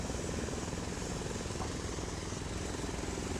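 A helicopter in the military video game Arma 3 flies with a continuous loud rotor thrum and engine whine, steady throughout, with no talking.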